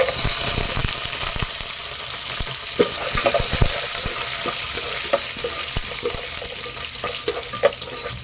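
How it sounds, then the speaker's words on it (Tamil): Peanuts, mustard seeds and curry leaves roasting in oil over a medium flame for lemon rice, a dense, crackling sizzle with irregular popping and occasional stirring clicks, close and steady without speech. "இது எல்லாத்தையும் மீடியம் ஃப்ளேம்ல வச்சு பொறுமையா வறுத்துக்கோங்க, கருகிடக்கூடாது."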